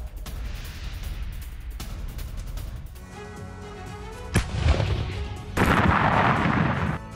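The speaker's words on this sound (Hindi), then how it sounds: "ओडेसा में रूस के ताबड़तोड़ मिसाइल हमले।" Russian missile strike hitting Odesa, including hypersonic missiles aimed at a shopping centre: low rumbling unrest, then a sharp heavy blast midway and a second loud, sustained roaring burst toward the end, with no talk.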